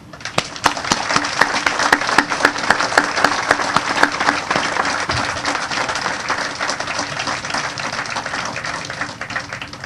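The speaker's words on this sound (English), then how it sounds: "today we would like to give you a round of applause." At a memorial service for veterans killed in action, a crowd breaks into sustained applause, with sharp individual claps standing out early over a thick, even bed of clapping that holds at moderate loudness to the end.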